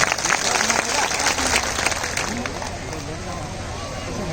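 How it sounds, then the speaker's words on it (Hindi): A crowd at a Koya Punem gathering in Bhimpur, Betul district, claps loudly in a busy, rattling burst that gradually eases, with crowd voices mixed in. "आप उनके लिए जोरदार ताली बजाइए।"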